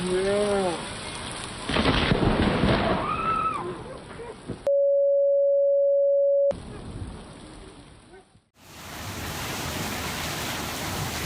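Steady rain with a few voices, a long flat electronic tone, then a sudden heavy crack of thunder from a lightning strike rolling into a loud rumble over the downpour.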